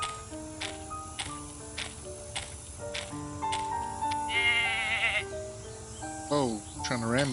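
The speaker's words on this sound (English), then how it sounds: "Another goat." Goat bleating in a video game, rising wavering cries near the middle and again near the end over steady game music and ticking tones, with no talk.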